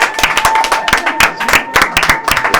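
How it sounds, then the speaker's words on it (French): A studio audience at a live television variety show breaks into dense, loud applause, with rapid overlapping claps throughout the short burst. "On applaudit encore, Nora Boy."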